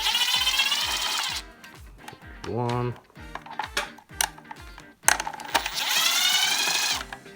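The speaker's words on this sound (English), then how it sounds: "you can just go ahead and take your drill to it" A DeWalt cordless drill drives a screw in short bursts, its motor whining and pulsing under a rapid clicking clutch, then spinning up again in a long steady run near the end; a voice counts briefly between the bursts.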